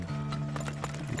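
Horse hooves clip-clop in the oil-drilling video game Turmoil, a short burst of steady, fairly close hoofbeats over a low game hum, with faint whinny-like tones.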